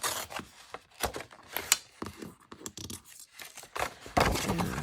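Paper is torn along a fold to make binder journal pages, giving a series of close, dry, scratchy ripping bursts and rubs, irregular in rhythm and fairly quiet, with no voices.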